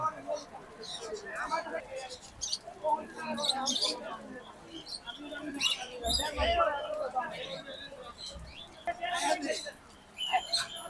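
Caged birds at a busy bird market in Mirpur 1, Dhaka, with scattered chirps and tweets mixed into crowd noise and voices, some calls close and others farther off.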